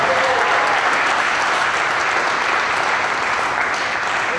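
Loud, dense round of applause from an audience as a guest is invited on stage at a drag racing event, steady clapping throughout with no pauses.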